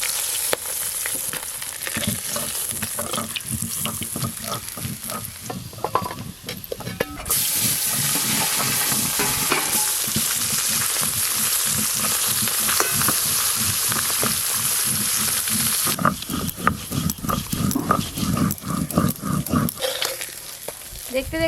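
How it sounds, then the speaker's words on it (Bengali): River fish frying in oil crackle and spit in a busy sizzle, punctuated by rapid scraping and tapping of a utensil, with a stretch of smoother continuous hiss in the middle before the clattering returns. "দেখতে দেখতে এই মাছগুলো ভাজা হয়ে গেল"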